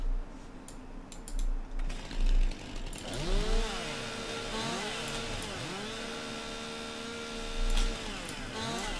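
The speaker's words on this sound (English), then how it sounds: "Someone told me that you can just chainsaw the stumps and they'll go away." A chainsaw cuts into tree stumps in the farming game Farming Simulator 19, its engine revving up and down in repeated sweeping whines after a few clicks, close and steady, with no talking.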